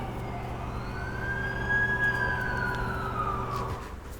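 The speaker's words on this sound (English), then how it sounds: "That's the ambulance I called." A wailing ambulance siren in the video game The Amazing Spider-Man 2 sweeps up and down steadily over a low engine hum, moderately close with no one speaking.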